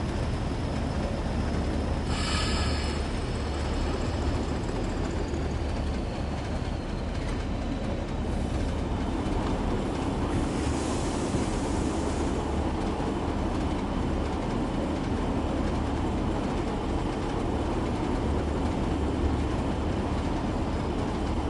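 A British Rail heavy freight train in the Train Sim World 5 video game runs through Standish Tunnel, with a loud, continuous rumble and roar of wheels and engine and a brief high squeal early on.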